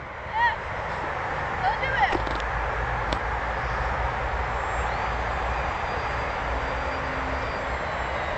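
A 3D EPP Ikarus RC model airplane's electric propeller motor whines in flight at a steady middling distance, while people talk over it in the open air.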